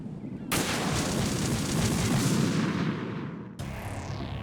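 Sniper rifle fire in Metal Gear Solid 2, a loud crack opening a sustained roaring blast that fades, then a second sharp shot cutting in near the end.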